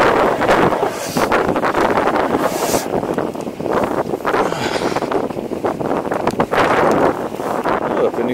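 Cold wind blows sideways into the microphone during a snowy e-mountain-bike ride, a loud continuous roar with gusty swells across the whole stretch and a faint voice underneath.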